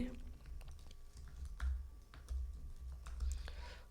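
Keys tapped on a computer keyboard while entering a password for a sudo command on a Linux server, a steady run of soft close clicks with a low background hum and no talk.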